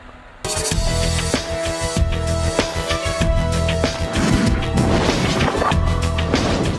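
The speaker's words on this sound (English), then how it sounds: "In tests, the Federal Aviation Administration placed plastic explosive in a luggage container made of glare." A plastic explosive charge is detonated inside a glare luggage container during an aviation test, giving one sudden loud blast that is followed by rattling crashes, debris impacts and a lingering rumble.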